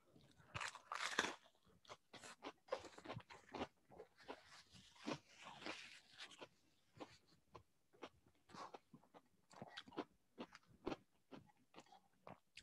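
Crunchy beer-battered fish and chips chewed close up: repeated sharp, crisp crunches in an irregular rhythm, quieter bites between louder ones, no talking.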